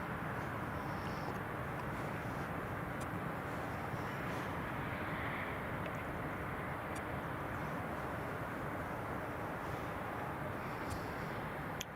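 A Jet2 airliner starts its engines for pushback on a stand at Newcastle International Airport, a steady distant roar and rumble that holds evenly throughout.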